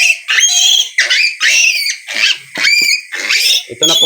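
A piglet squeals loudly while its umbilical cord is cut, letting out a run of sharp, piercing shrieks in close succession with short breaths between, up close and with no talk over them.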